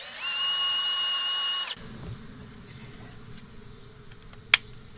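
A hand-held tool whirs steadily for under two seconds while cleaning exhaust stud threads in the engine of a Colorado during an exhaust manifold delete, then stops, followed by faint scraping and one sharp click.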